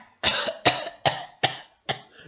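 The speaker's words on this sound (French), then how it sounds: "Je te tousse dessus." Five harsh coughs in a row, evenly spaced and close up, with short pauses between them.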